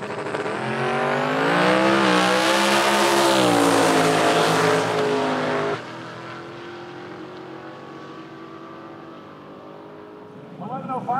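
Turbocharged car engine running with the boost turned up, revving loud and rising for several seconds, then dropping to a lower steady idle with a brief burst near the end; voices talk during the engine noise.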